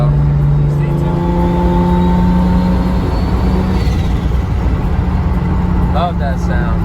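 Toyota Supra engine droning steadily while cruising on the road, a loud continuous hum with a slowly shifting pitch and constant road noise, heard from inside the car.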